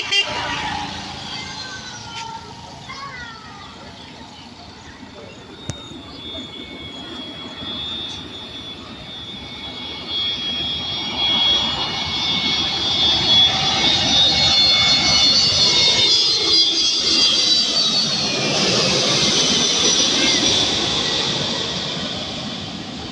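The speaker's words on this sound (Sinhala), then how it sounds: "ඉතින් ඔන්න ප්ලේන් එකක් එනවා දැන්" A low-flying airplane near Katunayake airport approaches with a growing engine roar that swells loud and close, then begins to fade while a faint whine lingers overhead.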